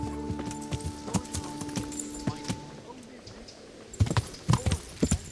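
Horse hooves in the video game Kingdom Come: Deliverance clip-clop in a quick, irregular rhythm, fading briefly before a louder burst of heavy hoofbeats near the end, with a steady tonal hum underneath.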